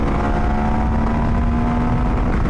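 KTM 1090 Adventure R motorcycle pulling hard in first gear, a loud, close engine roar holding a steady rising drone throughout with no talk.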